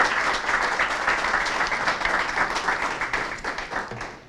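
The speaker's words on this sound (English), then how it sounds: "give him a round of applause" Audience applause at a gathering honoring a speaker, a dense, steady wash of many hands clapping that stays loud and continuous for the whole stretch before tapering slightly at the end.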